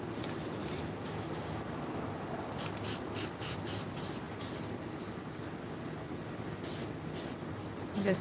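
Hissing bursts of alcohol ink spray in quick short pulses over a steady background hiss, close to the microphone, with no talking.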